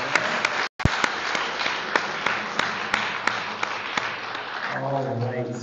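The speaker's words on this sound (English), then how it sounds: "Let's give them another warm round of applause" A crowd applauds steadily at a commencement ceremony, many hands clapping in a dense patter that carries on throughout before softening slightly near the end.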